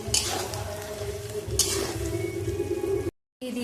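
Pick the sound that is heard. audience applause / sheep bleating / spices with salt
spices with salt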